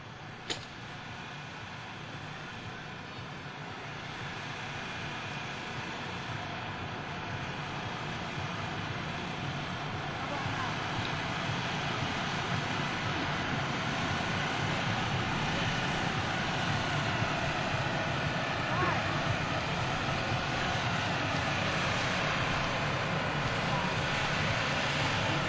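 Blue Angels US Navy jets fly in formation at the 2002 NAS Oceana airshow, giving a steady, broad roar that builds slightly and holds throughout. A voice can be heard faintly beneath the jet noise.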